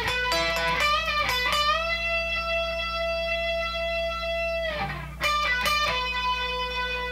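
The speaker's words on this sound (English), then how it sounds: "So he pulls off from the 15 to the 12 twice." Electric guitar playing a solo, a quick flurry of notes, then a long sustained note that rings and fades before a fresh burst of picked notes, played alone and close.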